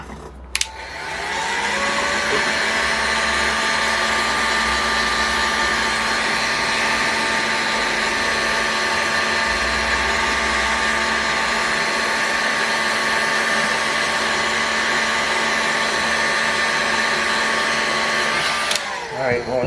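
A torch heating a bearing for removal on a Boca Bearing Magnum XL108 gives a loud, steady roaring hiss that starts abruptly, holds for about seventeen seconds and cuts off sharply, with no talk over it.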